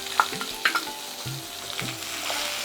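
Chopped onion hitting hot oil already seeded with mustard seeds and cumin, a steady sizzle with a few sharp pops and clatters of stirring near the start, no voices.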